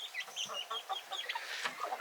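Chickens cluck near a homestead coop, several young full-size birds making soft, repeated calls close by in a busy flock, with no talk over them.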